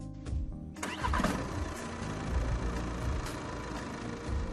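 A car engine cranks briefly and catches within the first second, then settles into a steady, fairly close idle while a 12-volt tyre compressor waits to be switched on.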